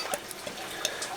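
Craftwork Brewery Milou, a blonde, light beer, pours into a glass with a soft, steady fizzing and liquid rush, faint and close, with small bubbly pops throughout.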